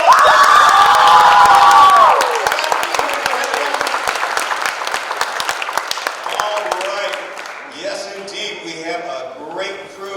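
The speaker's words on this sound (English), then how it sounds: "Give them a big round of applause." Applause with cheers and whoops from the audience at the 2026 Miss Armada pageant as the contestants are presented, loudest at first with a voice over the start, then settling into steady clapping that thins and fades toward the end.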